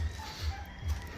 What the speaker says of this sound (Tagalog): Meron din akong alagang manok na native.